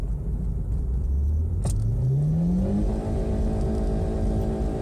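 A Mazda 626 coasts in neutral under a constant loud road rumble inside the cabin, a rising drone sweeping upward as it slows with the handbrake, and a brief sharp click partway through.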